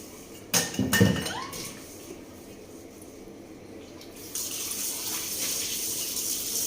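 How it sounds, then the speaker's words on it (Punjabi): A few clinks of dishes and cutlery, followed by a steady rush of running water from a tap, close by with no talking. "ਆਪਾਂ ਨਾਲ ਦੀ ਨਾਲ ਭਾਂਡੇ ਧੋ ਲੈਂਦੇ ਆ"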